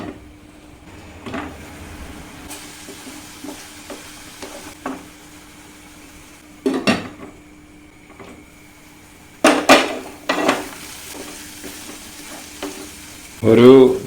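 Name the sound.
stirring and sautéing mushroom gravy in pan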